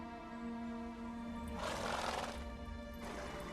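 A horse in The Witcher 3 video game neighs in two breathy bursts over a steady hum of game music and ambience, with no speech.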